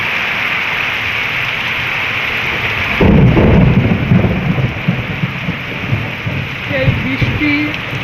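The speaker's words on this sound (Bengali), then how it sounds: "বৃষ্টি আর এত পরিমাণ মেঘের গর্জন" Steady heavy rain hisses throughout, then a loud thunderclap breaks at about three seconds and rumbles on unevenly under the downpour.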